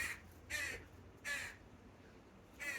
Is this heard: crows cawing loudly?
yes